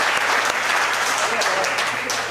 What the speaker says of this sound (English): Kindly clap